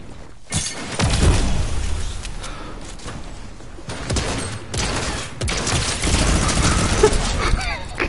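Gunfire in a video game, bursts of sharp shots and booming impacts that come in clusters, loud and close, with a brief voice in between.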